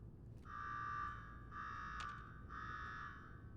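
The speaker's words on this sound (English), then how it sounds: "Now go shut off that damn alarm." An alarm in Fallout 4 sounds in three long, evenly spaced buzzing blasts with short gaps between them, fairly faint over a low background rumble, with no speech.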